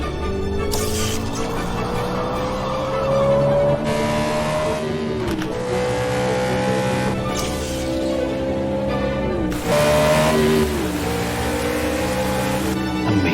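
A race car engine pushed hard in motorsport roars loudly and continuously, its pitch climbing and dropping through repeated gear changes as the car accelerates and shifts.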